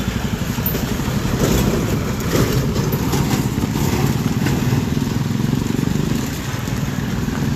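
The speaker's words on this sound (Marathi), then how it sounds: "एक तर गाडयांचो आवाज येता आसतलो" A loud, steady engine drone dominates, like a motorcycle idling or running nearby, with throaty low rumble and slight swells in intensity; road traffic on a patched, deteriorating road in Porvorim.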